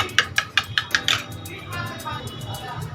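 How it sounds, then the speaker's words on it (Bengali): A spoon clinks rhythmically against a pan while Amul milk powder is stirred into a vegetarian potol curry, about six sharp metallic taps in quick succession followed by softer scraping and low background sounds. "দু চামচের মতো আমুল পাউডার ভালোভাবে মিক্স করে নেব"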